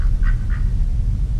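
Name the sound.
duck (drake) quacking on water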